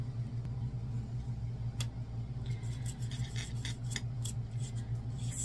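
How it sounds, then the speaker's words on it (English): A handmade DIY ring is sanded by hand, with short raspy scratching strokes over a steady low background hum, faint and close. "Still sanding."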